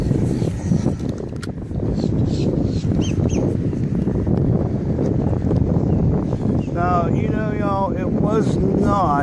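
Gusty wind buffeting the microphone with a constant low roar at the water's edge while fishing, with a voice speaking briefly near the end.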